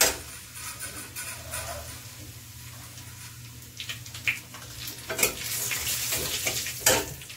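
Garlic-ginger paste and cumin powder frying in a pan on lowered heat, a soft steady sizzle with occasional stirring scrapes and utensil clinks growing louder toward the end.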